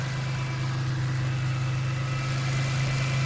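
A BMW E46 M3's 3-liter inline-six with individual throttle bodies idling steadily, a loud close low rumble with a constant even hum and no change in revs.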